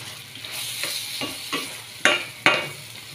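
Butter lemon garlic shrimp sizzles steadily in a pan while a utensil stirs and scrapes it in several distinct strokes, the last two louder and sharper.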